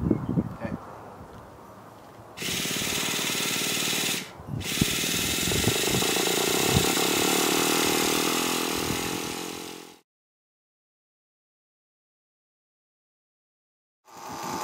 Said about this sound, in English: Okay, we got the motor started.